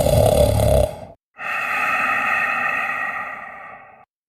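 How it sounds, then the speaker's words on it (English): A giant's booming snore: one loud, rough inhaled snort, a short pause, then a long droning exhale that fades out. "As the giant let out another booming snore"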